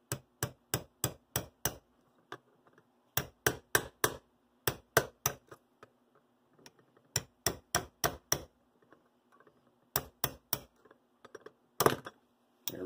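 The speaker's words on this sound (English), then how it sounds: "need our little hammer" A small hammer tapping a punch on a model locomotive: crisp, close metallic taps in quick bursts of four to six, separated by short pauses, with a faint hum beneath.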